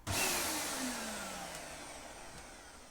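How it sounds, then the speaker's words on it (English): A Dyson DC07 Animal upright vacuum cleaner runs steadily up close, its loud motor whine and airflow roar holding constant with a slight pitch drift, no talking over it. "make sure this Dyson DC07 sound doesn't get in my ears."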